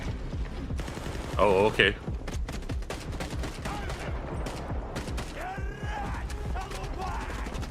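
Gunfire in a World War II shooter game trailer with supernatural elements, told from a Russian perspective, rattles in irregular bursts over mechanical clanks and a loud tonal effect, and a person speaks briefly.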